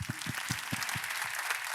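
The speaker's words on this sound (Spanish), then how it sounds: "Aplauden." A congregation at a worship gathering claps in a brief, loose burst of applause, with several distinct claps standing out near the start before it blends into a rougher wash.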